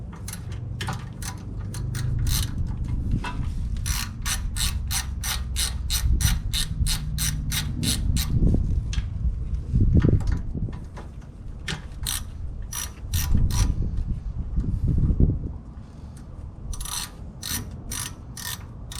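A ratchet loosens bolts on the front suspension of an Acura Integra, rapid clicking runs repeating close up, with a few pauses and scraping metal handling noises between strokes.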